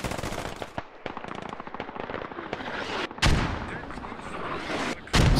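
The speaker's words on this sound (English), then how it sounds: "Mortar's coming out." Mortar fire in a military shooter game: rapid crackling bursts of gunfire with sharp explosive thumps, the heaviest blasts landing near the middle and at the end, loud and close.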